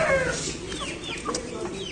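An Aseel rooster in its cage gives a few short clucks, fairly close, over low background noise.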